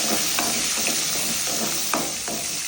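Garlic and onion sizzle in hot oil in a pan for a tamarind okra curry, a steady frying hiss broken by several short scraping stirs, close and fairly loud with no voices.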